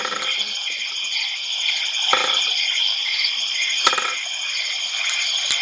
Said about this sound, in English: That's some loud crickets.